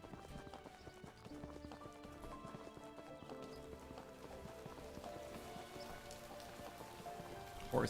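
Video-game rain patters steadily across the ground, a soft continuous hiss under faint hoof clip-clops and ambient tones, ending in a brief louder burst.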